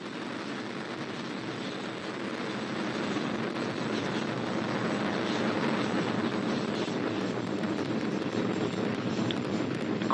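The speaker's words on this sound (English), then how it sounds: "All three RS-68 engines look good at this time." A Delta IV Heavy rocket with three RS-68 engines climbs after liftoff on the NROL-91 mission, a continuous distant roar that swells slightly and holds steady, without any talk over it.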